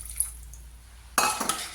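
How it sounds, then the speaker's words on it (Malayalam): Boiled gooseberry water pours into a pickle in a short splashing, trickling burst, coming after a quiet pause and lasting well under a second. "ഈ നെല്ലിക്ക പുഴുങ്ങിയ കുറച്ച് വെള്ളം ഇതിലേക്ക് ഒഴിക്കാം."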